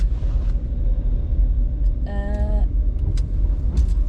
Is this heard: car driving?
yes